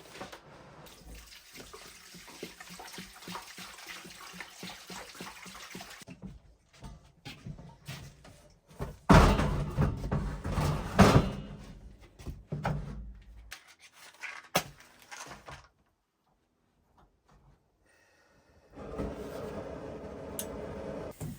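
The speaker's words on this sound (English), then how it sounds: "I'm just gonna top up these pots" Water from a 20-liter jug is poured into cooking pots in a winter cabin, coming in several bursts of splashing and gurgling separated by quiet gaps, with a final stretch of steady pouring near the end.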